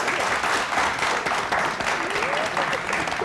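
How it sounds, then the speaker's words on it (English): Audience at a science quiz show gives a sustained round of applause, dense clapping filling the room steadily, with a voice speaking faintly underneath. "I'm sure you can give a very much louder round of applause."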